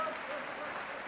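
Audience applause during a State of the City address, a faint, even patter of clapping from a hall crowd that stays steady across a brief moment.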